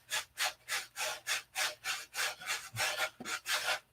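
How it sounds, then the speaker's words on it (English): Sanding the side of an aircraft fuselage by hand, a rhythmic back-and-forth rasping scrape repeated about a dozen times at a steady pace, close and clear with no talking. "the more you have to sand in the fuselage side"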